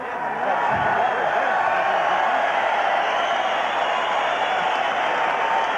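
A boxing arena crowd of thousands at a title fight cheers and applauds in a loud, steady roar that fills the whole span, with a voice speaking underneath at the start.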